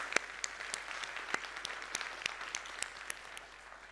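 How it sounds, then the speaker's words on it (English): Scattered clapping from an audience at an award ceremony for GIS laureates, with individual distinct claps spaced irregularly over soft background applause, fairly faint and thinning toward the end. "just another round of applause for all four of our inaugural laureates"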